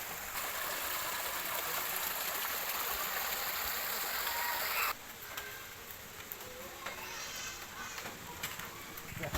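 Steady broadband rush of spring water at a resort fills the clip, louder in the first half, then a softer flowing wash with faint background sounds.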